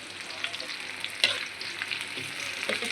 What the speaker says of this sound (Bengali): একটু সুন্দর করে ভাজা ভাজা করে দিই